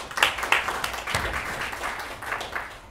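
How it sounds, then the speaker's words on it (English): Crowd at a comedy juggling show gives a volunteer a steady, full round of applause lasting throughout, with faint voices underneath. "Everyone, a huge round of applause."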